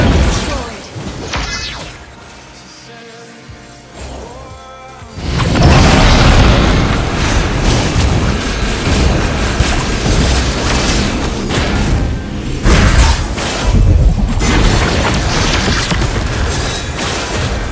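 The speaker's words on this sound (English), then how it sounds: "Our turret has been destroyed." A turret destroyed during an intense competitive video game match, producing a loud booming explosion that erupts suddenly after a quieter stretch of game sounds and stays dense and roaring for over ten seconds.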